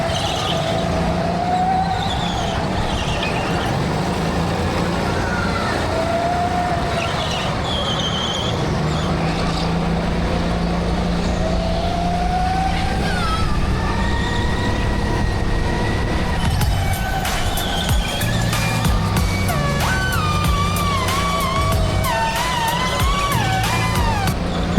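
Go-kart engines whine and drone steadily on an indoor karting track at Victory Lane Indoor Karting in Charlotte, NC, with rising and falling pitch, tire squeals, and a loud continuous roar throughout.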